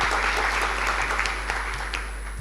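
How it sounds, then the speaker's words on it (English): A conference audience applauds the organizing committees, producing steady, full clapping throughout, easing a little toward the end over a low electrical hum. "So big round of applause for them also."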